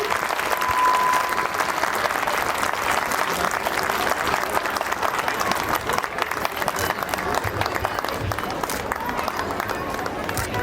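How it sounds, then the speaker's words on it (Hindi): A school prize-distribution crowd gives a prize winner loud, continuous applause, a dense steady roar of many hands clapping that holds for about ten seconds with faint murmuring underneath. "जोरदार तालियों से इनका स्वागत करें।"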